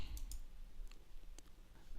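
Computer mouse clicked while working in After Effects: several quiet, sharp clicks spaced irregularly over a low background hum.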